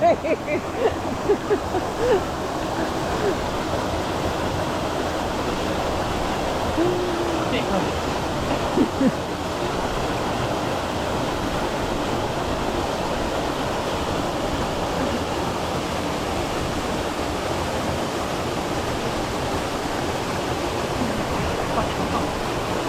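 Steady roar of rushing water from a waterfall at Crystal Creek near Ingham, close by, filling the whole clip with broadband noise; a few brief voices surface near the start.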